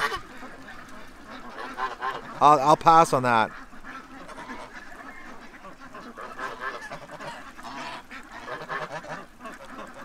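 Geese of African and Chinese breeds honk in a loud burst of repeated calls, with ducks quacking around them by a pond; a person speaks briefly over quieter ongoing bird chatter afterward.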